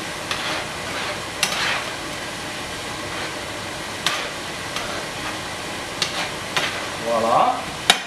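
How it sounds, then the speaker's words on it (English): Brandy mushroom sauce with fresh crushed garlic sizzles steadily in a pan while it reduces, a soft continuous frying hiss with occasional stirring scrapes and clinks. "I'm going to let the sauce reduce just a little bit."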